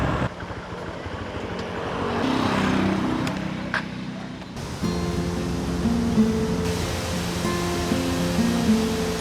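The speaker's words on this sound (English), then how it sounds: "I just passed waterfalls and I was like, oh, what is that?" Large roadside waterfall in Bukidnon on a monsoon day, a broad continuous roar of falling water close by, with a motor vehicle passing along the road and rumbling engine tones underneath.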